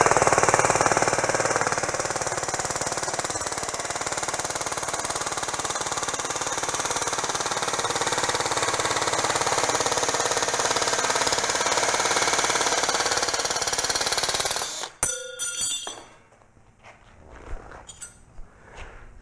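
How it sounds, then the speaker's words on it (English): A drill-driven sheet metal cutter slices through a scrap piece of 16 gauge steel with a loud, steady grinding whine for about fifteen seconds, then stops abruptly, leaving a few clinks and handling noises. "So let me hook this up to my drill and let's cut some metal with it"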